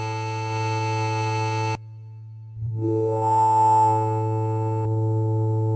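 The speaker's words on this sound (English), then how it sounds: "Lo-fi section. This adds digital distortion." A steady Korg Gadget synthesizer tone with a buzzy, harmonically rich edge drops out briefly, then returns with a rising, gritty, bit-crushed sweep from lo-fi digital distortion.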